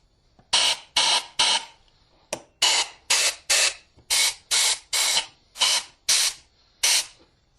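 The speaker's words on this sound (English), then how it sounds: "I'm just going to spray through every orifice I can." Bursts of cleaner spray hiss through the single carburetor of a Kawasaki KZ440 motorcycle, about a dozen sharp, loud, close blasts in quick succession with brief pauses between them.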